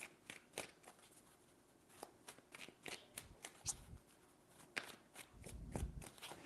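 Tarot cards are handled and shuffled in a steady stream of quick, crisp papery clicks and flutters, close and fairly quiet, with no voice over them.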